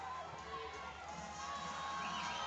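A crowd cheers and shouts steadily at a high school powerlifting national meet as a lifter attempts a world record, a dense, continuous roar that swells slightly toward the end.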